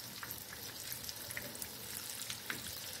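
Sliced bitter gourd (karela) frying in oil in a pan, giving a steady faint sizzle with crackly pops and no talking.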